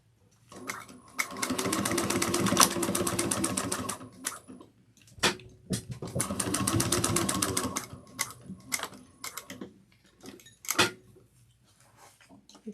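A sewing machine stitches a 1/8 inch seam on a fabric bag in two loud, rapid, rhythmic bursts a few seconds each, with short pauses and scattered clicks and handling sounds between them.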